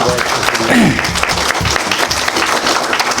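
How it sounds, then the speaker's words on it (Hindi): An auditorium audience at the inauguration of the Madhubani Lit Fest applauds loudly to welcome the Governor, thick sustained clapping close by, with a voice speaking briefly over it. "एक बार जोरदार तालियां बजा दें"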